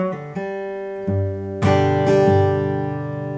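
Acoustic guitar playing the opening lick of a song's intro, a few picked notes ringing into sustained chords, close and clear with no voices.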